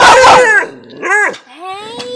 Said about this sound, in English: They barking. That's how they communicate.